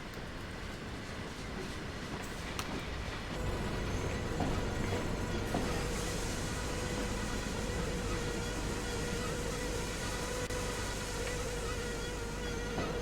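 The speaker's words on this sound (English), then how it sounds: "Probably should have used the actual train brakes rather than the" Train braking in Train Sim World at Lackenby Steelworks during shunting, a loud steady mechanical rumble with a high whining squeal that rises midway and holds, no speech.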